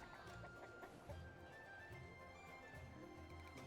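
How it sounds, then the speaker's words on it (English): A rooster in a cockfight in the Where Winds Meet video game clucks in short repeated bursts, faint and low beneath a busy layer of game music and ambient sound. "fighting against a rooster in a cockfight"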